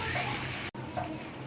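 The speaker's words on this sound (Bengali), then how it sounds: "মশলাটা কষানোর জন্য এবার আমি দিয়ে দিচ্ছি পানি" Water poured into a hot pan of frying spices with oil, green chillies and onion, giving a brief splashing, running-water rush with a short break midway.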